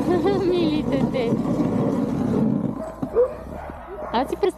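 Random street dogs bark and yip near traffic while people talk close by; the barking is strongest early on and breaks up toward the end.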